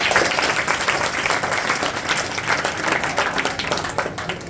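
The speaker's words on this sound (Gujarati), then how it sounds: "આપણે એ કલાકારો માટે પણ ફરી એકવાર જોરદાર તાળીઓ થઈ જાય" An audience at a school annual function claps for performers in a loud, dense, sustained burst of applause that continues throughout and eases slightly toward the end.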